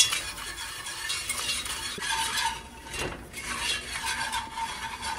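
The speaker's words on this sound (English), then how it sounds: "you wanna whisk pretty much constantly because we don't want it to burn" Flour roux whisked almost without pause in a pot on the stove for a creamy mushroom soup, a steady scraping, swishing stir at close range with a faint sizzle underneath and no talking.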